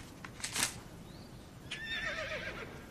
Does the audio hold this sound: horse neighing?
yes